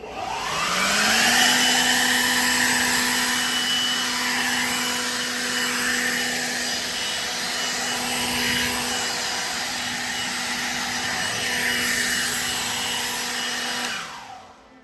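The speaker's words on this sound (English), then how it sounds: "I've got the glorified leaf blower." A powerful leaf blower motor whines and roars steadily for several seconds, air rushing loudly as it blows water off a car, then winds down at the end.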